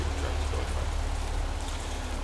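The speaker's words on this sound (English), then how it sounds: "So a rainy day here in the Pacific Northwest." Steady rain falling outdoors on a rainy day in the Pacific Northwest, a continuous dense hiss with no breaks and no voices.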